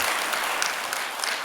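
Church congregation clapping together to welcome newcomers at a Sunday worship service, a steady dense wash of applause filling the whole short stretch with no voices over it.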